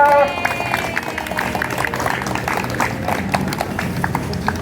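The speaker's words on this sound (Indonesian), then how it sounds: "tepuk tangan semuanya." A group applauds after a fire evacuation drill at Gumaya Tower Hotel, with scattered, uneven clapping under voices and crowd chatter.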